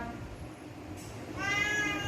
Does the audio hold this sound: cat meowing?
yes